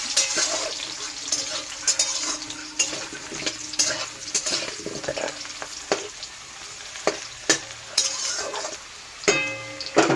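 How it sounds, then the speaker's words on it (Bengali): Cut potatoes fry in a pan with cumin seeds and bay leaf, giving a steady sizzle throughout, broken by repeated scraping and clinking strokes of a spatula as they are stirred. "আলুটা ভাজা ভাজা হবে।"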